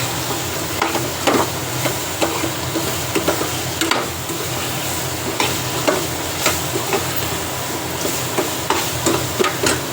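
Ridge gourd being tempered and fried in a pan, with a steady sizzle under repeated sharp scraping and stirring clatters of a spoon against the pan, close and fairly loud, with no talking.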